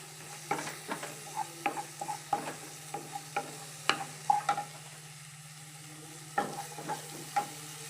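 Shallots frying in oil in a pan for a prawn and drumstick curry as tomatoes go in, with regular scraping stirs of a spoon every half second or so over a faint steady hum and soft frying crackle, no talk.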